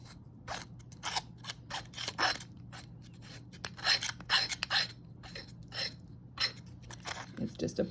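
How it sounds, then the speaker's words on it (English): Hand file rasping around the edges of an oyster shell dish to remove paper bits, a series of short scratchy strokes in irregular rhythm, close and fairly quiet. "I use a file. I go all around the oyster shell dish"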